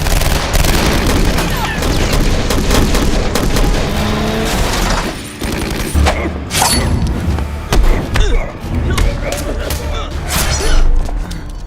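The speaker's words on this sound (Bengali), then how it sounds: "আর্মি সেনারা এলোপাতাড়ি গুলি করতে শুরু করে" Bursts of gunfire from soldiers shooting wildly in a film action scene, loud repeated booms and thuds crowding together with dense crackling noise throughout.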